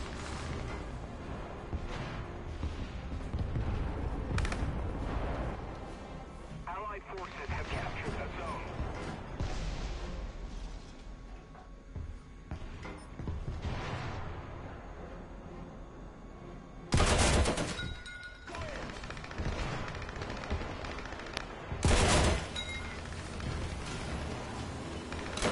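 Tank cannon fire in the video game War Thunder, with two sharp loud blasts standing out over a steady rumble of battle noise, while someone talks over much of it.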